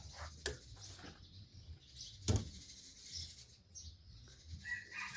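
Faint rooster crowing in the distance amid quiet outdoor ambience, with a couple of sharp knocks and soft clucking.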